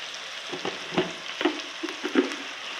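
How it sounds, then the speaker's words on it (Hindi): A steady soft sizzle of spices, including chili and turmeric, frying in a pan for chicken nihari, with a few scraping stirs of a utensil and no talking. "अब मैं सारे मसाले को भून लूँगी"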